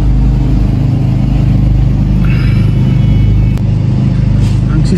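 A car engine running at a steady idle near a taxi stand outside an embassy, a loud continuous low rumble with little change across the few seconds.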